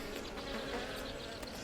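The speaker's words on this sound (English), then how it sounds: "I've got my face just a few inches from these bees" Young honey bees buzzing just inches away, a dense steady drone of many insects at close range with no talk over it.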